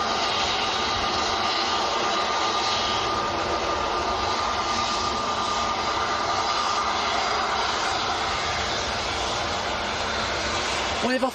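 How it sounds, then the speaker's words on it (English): An EasyJet airliner approaching Manchester Airport, a loud, continuous jet engine roar that stays steady and close throughout, with a faint voice underneath. "we've got another EasyJet coming straight at us"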